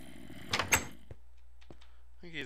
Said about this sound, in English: I think he's banging on this door.